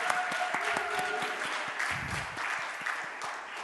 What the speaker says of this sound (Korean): 자, 우리 또 큰 박수로 한번 또 환영하도록 하겠습니다.